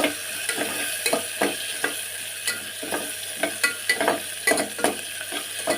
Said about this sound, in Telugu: ఇప్పుడు ఇలాగే మగ్గుతాయి ఉల్లిపాయ మగ్గుతాయి